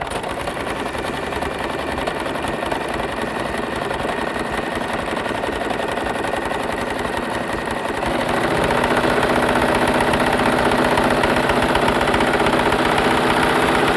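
An electric sewing machine stitches fabric in a beginner tailoring lesson, giving a loud, steady mechanical whir that runs nonstop and grows slightly fuller partway through, with no voices.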